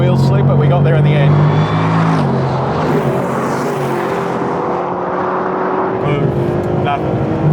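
Mercedes-Benz SLS AMG and SLR McLaren launch side by side in a drag race, loud engines roaring with rising revs and some wheel slip, while someone talks over them.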